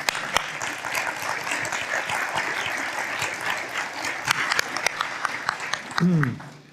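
Sustained applause from a crowd, steady clapping throughout with a few louder claps, ending with a brief voice near the close.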